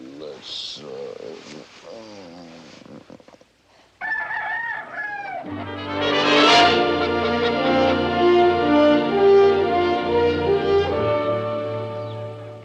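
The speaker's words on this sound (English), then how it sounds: "We had a simple, modest little farm, 24 leghorns for me to look after" Rooster crowing and Leghorn chickens clucking on a small farm, with a voice speaking briefly over the early bird sounds, then a short pause before a sustained, loud burst of crowing and clucking that fills the rest of the span.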